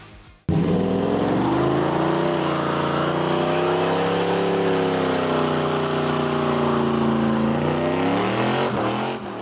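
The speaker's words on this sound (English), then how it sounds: "we love a good burnout" A race car holds a sustained high-revving roar during a tire burnout, the engine note rising and dipping slightly over about nine seconds, loud and close with a gritty hiss, alone without talking.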